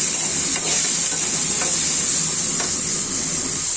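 Ginger sizzles loudly in hot oil in a pan and is stirred, a steady, close frying hiss with faint scraping strokes of the spoon, no voices.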